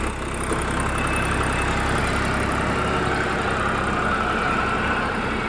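A steady, loud tractor engine drone runs unbroken throughout, the motor chugging at a constant pace with no voices.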